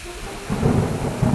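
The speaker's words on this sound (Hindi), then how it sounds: "तभी अचानक बादल गरजने लगे और तेज बारिश हो गई।" A thunder rumble rolls in over steady heavy rainfall, loud and close, with no voices.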